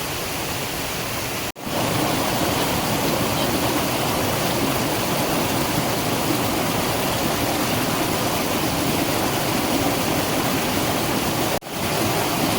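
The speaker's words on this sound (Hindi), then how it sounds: "इस रास्ते में ये देखिए कितना पानी बह के आ रहा है।" Heavy rainwater rushes down a mountain village path in Uttarakhand during heavy rain, a continuous loud, dense roar like a torrent streaming downhill, steady from start to finish.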